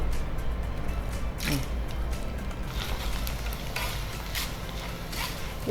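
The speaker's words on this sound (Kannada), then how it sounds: "ಸ್ವಲ್ಪವೇ ಹಾಕಿ ಫ್ರೈ ಮಾಡಬೇಕು" Corn mixture ingredients dropped into moderately hot oil and frying, a continuous close sizzle with occasional scraping and stirring, no talk.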